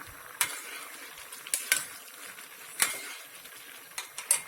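Aşure, a thick grain pudding, being stirred in a pot, with a spoon scraping and clinking against the sides in several sharp, close knocks over a soft, steady background with no talk.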